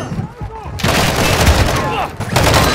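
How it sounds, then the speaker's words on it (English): Gunfire in Call of Duty Modern Warfare 2 (2022), dense loud bursts of rapid shots and booms with a brief lull, under game voices calling out. "Taking effective fire!"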